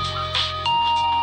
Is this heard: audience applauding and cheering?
no